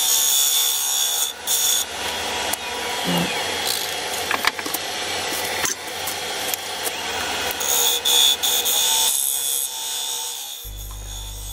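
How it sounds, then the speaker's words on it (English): A 32mm skew chisel works as a scraper against the spinning rim of a wooden bowl on a lathe, making a continuous rough scraping and rubbing with brief sharper catches and shifts in tone. "That's a 32mm skew chisel. I'm actually using it just as a scraper to get that edge flat there."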